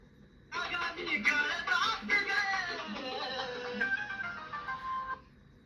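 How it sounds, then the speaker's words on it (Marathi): A phone plays a melodic ringback tune while a call is being placed, a loud chiming pattern lasting a few seconds before it stops abruptly. "आता मी परत एकदा तुमच्या समोर त्यांना फोन लावते बघा"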